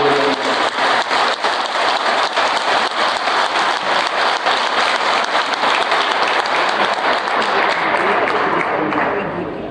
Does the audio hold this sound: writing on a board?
no